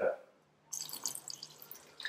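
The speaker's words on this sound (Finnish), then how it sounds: "laitetaan litra vettä" Someone pours a litre of water into a bowl to start rye bread dough, making a quiet, steady splashing stream that begins after a short pause and runs to the end.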